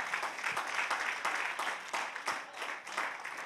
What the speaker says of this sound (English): Y'all clap your hands for that.